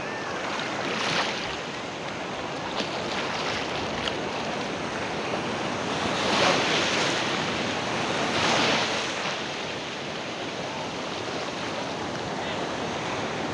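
Big ocean waves roll in and break on the shore, a continuous broadband wash with swells of louder surf at intervals, mixed with wind buffeting the microphone.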